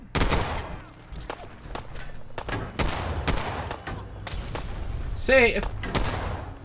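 Pistol gunfire rings out in a modded video game in a downtown area. There are several sharp, loud shots spaced irregularly, mixed with other game noise, and someone speaks briefly.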